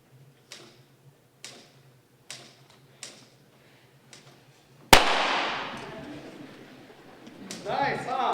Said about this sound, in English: Look, Penny, what do you think of these little firecrackers we just made?